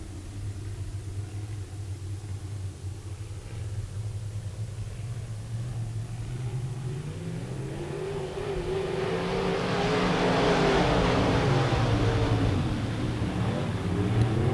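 IMCA modified race cars roar around a dirt speedway during a B feature, a steady loud engine drone that swells as the pack draws nearer and revs climb, with no talk.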